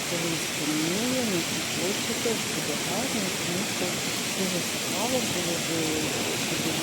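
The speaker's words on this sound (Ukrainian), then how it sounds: "Ще такі фонтани." Water fountains in Le Havre splash in a steady, close wash of spray, with voices talking over the constant rush throughout.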